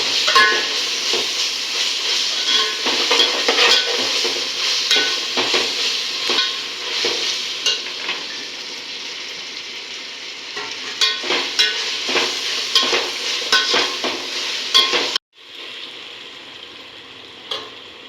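Sliced onions and ginger fry in hot oil for egg biryani, a steady close sizzle with frequent clicking stirs and scrapes throughout, briefly cutting off near the end before resuming more quietly.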